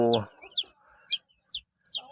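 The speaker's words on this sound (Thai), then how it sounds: "วิธีการนำไก่พันไข่เอามาให้ ไก่ชนเลี้ยง" Barred Plymouth Rock chicks chirp in a run of five high, rising peeps alongside a game hen, whose brief low cluck opens the sequence; close and clear, with no talk.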